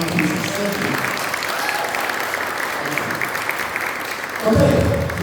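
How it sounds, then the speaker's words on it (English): Audience applause at a London student music concert, a steady wash of clapping that fills the hall for several seconds before a voice breaks in near the end. "please, another warm round of applause for Arjun and for this time for my pieces."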